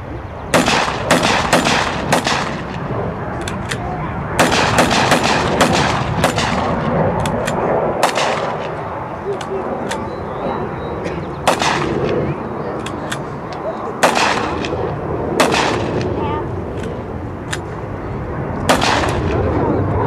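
WWII-era US weapons fire on an outdoor range in a steady stream of sharp, loud cracks and bursts, some in rapid strings, with muffled voices now and then beneath the shooting.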